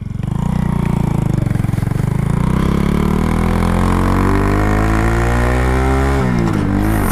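Honda Grom motorcycle fitted with a 17-tooth sprocket, accelerating through its gears: a loud, close engine drone whose pitch climbs steadily, then drops sharply at a shift and begins rising again.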